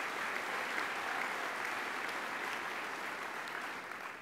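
An audience at a Dallas Holocaust Museum speaking event breaks into sustained applause, a broad, even wash of clapping from a large crowd that holds steady and eases slightly toward the end, with no speech over it.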